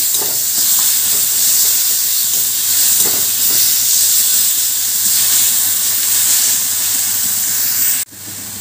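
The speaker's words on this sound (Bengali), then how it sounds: "এবার দিয়ে দিচ্ছি যে বরবটির পেস্টটা বানিয়ে রেখেছিলাম, সেই বরবটির পেস্টটা দিয়ে একটু ভালো করে নাড়াচাড়া করে নেব" Asparagus bean paste sizzling in hot oil with a steady, loud hissing fry and faint stirring scrapes, ending abruptly near the close.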